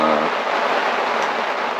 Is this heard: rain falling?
yes